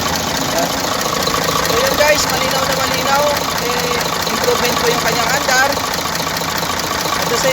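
A repaired engine with a history of knocking and excessive blowby idles steadily and loudly close by, a continuous mechanical rumble with faint ticking, under occasional talk.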